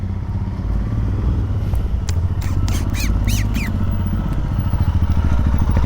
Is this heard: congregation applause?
no